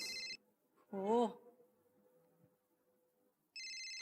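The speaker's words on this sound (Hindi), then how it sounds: "फोन की घंटी नहीं सुनाई दे रही आपको?" An old landline telephone bell rings in two bursts at the start and end of a Hindi TV drama scene, with a voice speaking briefly in between over a quiet room.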